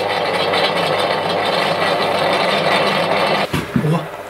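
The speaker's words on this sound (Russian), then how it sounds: "Короче, включила тепловентилятор." An old, worn fan heater that tends to jam runs with a steady droning whir and rattle, ending in a couple of abrupt knocks as it stops.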